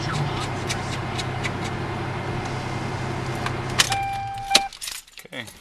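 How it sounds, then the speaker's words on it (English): A 1999 Toyota Tacoma 3.4L V6 pickup idles with a steady, close low hum for several seconds, then cuts off as keys jingle and clink near the end. "truck runs normal"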